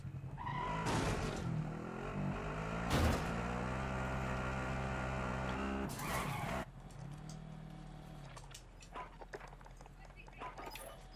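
A vehicle engine drones and rumbles while driving in the Call of Duty Warzone video game, loud and steady with a few sharp bursts, easing down near the end while radio-style voices talk over it.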